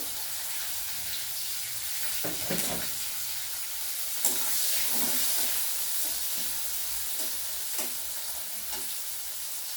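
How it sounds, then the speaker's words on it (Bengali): Chopped onions and slit green chillies frying with a little salt in a pan, a soft continuous sizzle with intermittent stirring clatter, no voices. "দিয়ে বেশ কিছুক্ষণ আমি ভেজে নেবো এগুলো একটু লালচে করে"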